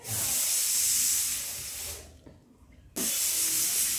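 Pressure cooker hissing steam in a home kitchen, a loud close jet of hiss that fades and drops out briefly, then bursts back at full strength.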